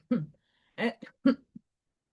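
A few short, separate coughs in a row, close and fairly loud, with brief silences between them.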